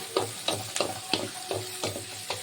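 Masala being sautéed until brown for Chettinad chicken gravy: a soft steady sizzle with a rhythmic series of about eight spatula stir strokes scraping the pan, close and fairly quiet.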